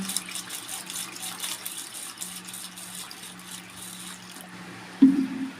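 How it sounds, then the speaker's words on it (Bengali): Raw rice for payesh is being rinsed in water by hand, giving a steady close sloshing and trickling. Near the end comes a single louder splash or clunk, and no one speaks. "এখানে জল দিয়ে দেবো, ভালো করে ধুয়ে নেব।"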